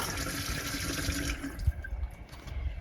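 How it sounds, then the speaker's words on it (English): Running water from a tap in the kitchen sink of a cargo trailer camper conversion, a steady close splashing flow with no talk over it. "running water."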